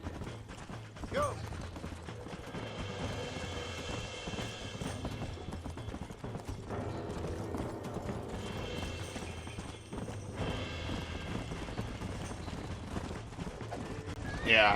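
Horse hooves clip-clop at a gallop in the western video game Red Dead Redemption, a steady rhythmic beat under game music and ambience, with a brief whinny and some mechanical clatter.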